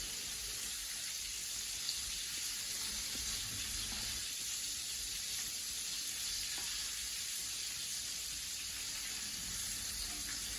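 Crayfish coated in seasoned coconut flour deep frying in oil, a steady dense sizzle and crackle that holds evenly throughout at close range with no talking.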